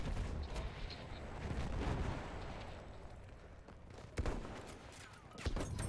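Grenade explosions and gunfire in Battlefield 1 build to a rumbling, booming roll with sharp cracks and pops toward the end, all at moderate loudness.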